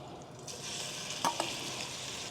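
Longganisa sausage fries in olive oil in a pan with a soft, steady sizzle, broken by a couple of brief sharp clinks near the middle.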